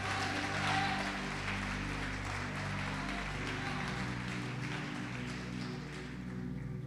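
A church congregation claps together through a long, steady stretch of praise, the applause filling the room at an even level beneath ongoing voices and music.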